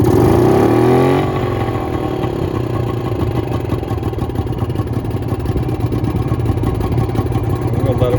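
A 1957 TWN Cornet motorcycle engine on a cold start. After a brief cranking surge it catches and settles into a loud, steady, close idle with a fast, even throb.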